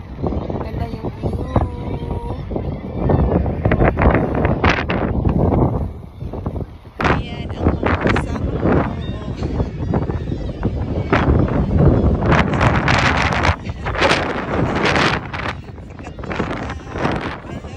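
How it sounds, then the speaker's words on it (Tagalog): Strong wind buffets the microphone in loud, roaring gusts at a seaside viewpoint, with a voice talking intermittently beneath it. "Sobrang hangin, grabing hangin"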